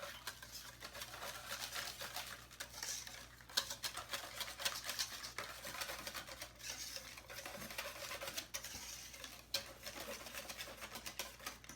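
Spices and salt being mixed into pumpkin pie filling in a bowl, giving a steady, soft scraping and tapping patter of the utensil that runs throughout at moderate distance, with no talking.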